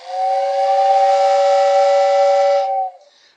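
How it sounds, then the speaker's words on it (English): A Lionel whistle tender on a North Pole Christmas toy train set blows a single steady, airy two-tone whistle with a breathy hiss. It sounds close and loud, holds for under three seconds, then cuts off into a faint fading hiss. "It just sucks the air through it and blows it out like a little whistle."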